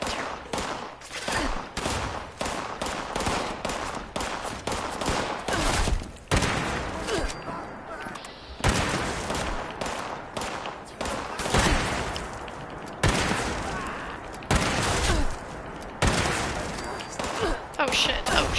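Bursts of rapid gunfire from the player's weapon in Fallout 76, loud sustained rattling volleys broken by short pauses, with a voice talking over parts of it.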